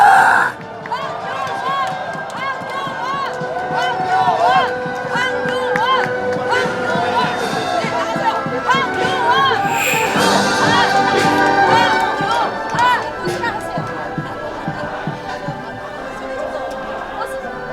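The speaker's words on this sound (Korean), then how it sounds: "함성" Large crowd at an outdoor political rally against election fraud cheering and shouting, a loud, continuous mass of voices, with speech mixed through the noise.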